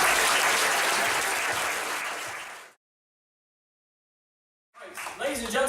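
Comedy club audience applause, loud and dense, rolling for under three seconds before cutting to silence, then a brief burst of voices and noise returns near the end.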